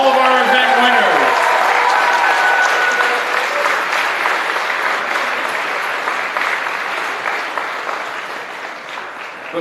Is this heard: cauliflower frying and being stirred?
no